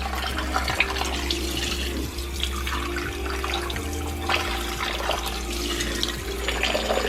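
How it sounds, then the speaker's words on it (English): Tap water runs steadily and close by while a gutted fish is rinsed clean under it, with a continuous splashing rush and a constant low hum underneath, and no talking. "I take it over and I wash it off just to make sure all the nasty feces or whatever's in there gets out"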